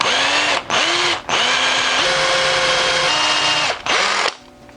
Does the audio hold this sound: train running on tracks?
no